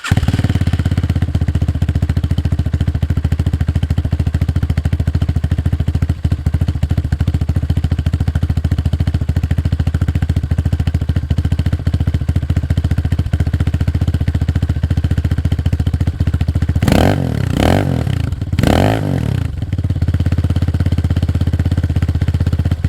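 A Hawk DLX 250 motorcycle with its exhaust baffle removed runs loud and close at a steady idle, then gives a few sharp throttle blips near the end.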